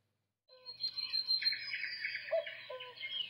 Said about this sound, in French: Chant d'oiseau de la forêt.